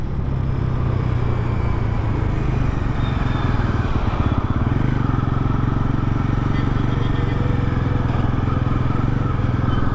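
Bajaj NS400Z motorcycle engine pulling hard through the gears on a road, a loud steady drone with rising revs and a brief mid-clip change as it shifts into third.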